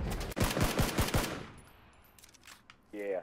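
Rapid burst of automatic gunfire in a shooter video game, about five sharp close shots in quick rhythm, then quieter scattered shots and a brief voice at the end.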